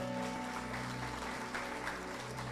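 A church congregation applauding during an evening service, a dense, continuous wash of clapping over a sustained musical drone.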